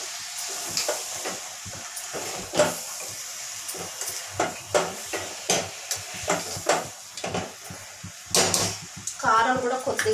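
A spoon stirs chili powder into a sizzling mutton rice mixture for bagara rice, scraping the pot in repeated uneven strokes over a constant frying hiss, while a voice speaks intermittently.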